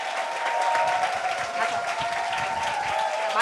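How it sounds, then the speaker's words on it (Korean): A seminar and rally audience bursts into loud cheering and applause, with whoops and shouts riding over a thick, sustained roar of clapping that swells slightly toward the end. "우레와 같은 함성과 박수 부탁드리겠습니다"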